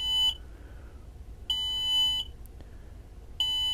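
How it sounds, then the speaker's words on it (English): Arduino-driven pressure alarm giving three sharp electronic beeps, a short one then two longer tones, evenly loud against a quiet background. "I've got some code for an alarm that will sound when the pressure gets too high."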